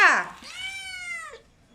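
A cat gives a single drawn-out meow, bright at the onset and then sliding down in pitch before trailing off, heard close and alone.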